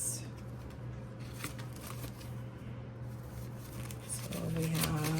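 Paper cash bills are shuffled, flicked and slid into a budgeting envelope close by, a dry papery rustle with soft slaps, and a brief steady tone near the end.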